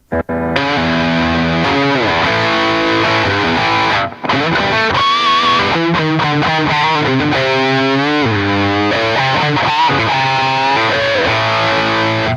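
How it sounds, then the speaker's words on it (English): A heavily distorted electric guitar played through a Line 6 HX Stomp using an impulse response plays chords and sustained notes, loud and saturated, with a brief drop in sound partway through. "The distortion definitely sounds different."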